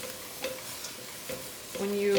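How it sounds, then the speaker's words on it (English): Herbs and celery sauté in a pot with soft sizzling and a few clinks of stirring, faint and close, building to a louder hiss at the end. "I'm going to use the same pot to sauté my herbs and celery"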